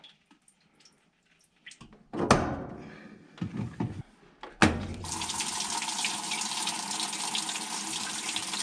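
Water rushes into a washing machine just repaired for a shut-off fault: a few clunks and knocks, then a loud, steady close-up flow running without a break to the end.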